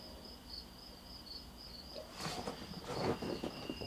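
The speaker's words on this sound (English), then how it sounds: "See if you can hear the crickets and cicadas in the still of the night." Steady high-pitched trilling of crickets and cicadas on a still night, continuous and fairly faint, with a brief rustling burst of noise partway through.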